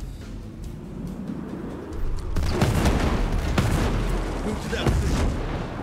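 Mortar explosions in Ghost Recon Breakpoint: a loud, low booming barrage swells in around the midpoint and rumbles on with scattered blasts, while a voice gives orders over it.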